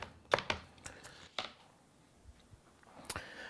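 Onions being chopped with a knife on a cutting board in a home kitchen, a few sharp uneven cuts close by, with a quiet pause in the middle before one last chop.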